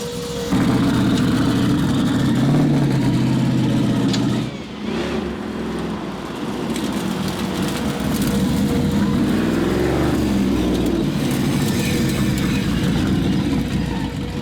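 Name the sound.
quad turbo LS Audi Quattro engine driving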